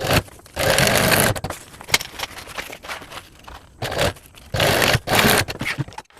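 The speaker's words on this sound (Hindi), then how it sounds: "अब हम इसे इस तरह से बराबर रख लेंगे और सिलाई करेंगे।" Sewing machine stitching fabric panels of a child's school bag, heard in several loud bursts of fast whirring separated by short pauses and quieter handling noises.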